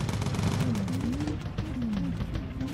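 Defensive gunfire from a WWII bomber's turrets in the video game Bomber Crew, rapid continuous machine-gun rattle over a droning engine hum, loud and sustained throughout.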